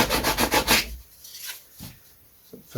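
Sandpaper rasps against a wooden glider part in several quick rhythmic strokes, close and loud at first, then a few lighter scattered rubs.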